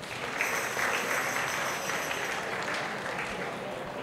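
Crowd of students at a Voters' Day school event applauding loudly, a continuous wash of many hands clapping evenly for four seconds, fairly close and unbroken.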